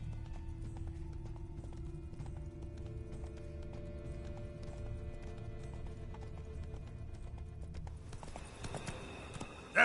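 Horse hooves clip-clop in The Witcher video game, a steady rhythmic hoofbeat over a low droning background with sustained tones, ending with a brief louder burst.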